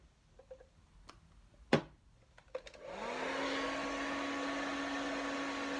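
A hair dryer drying hair at a barbershop switches on after a few faint clicks and a sharp knock, then runs with a loud steady whirring hum for the rest of the clip.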